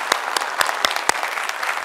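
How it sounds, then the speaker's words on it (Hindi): A seated audience at a motivational talk during an Indian tour claps loudly, steady mid-sized applause with a few sharper individual claps standing out. "एक बार जोरदार तालियां सबके लिए"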